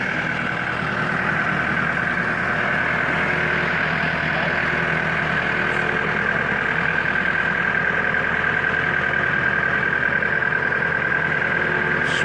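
A tractor engine runs steadily and close by while moving a 1948 Ford, holding a constant droning note with a persistent mid-pitched whine over it and no talking.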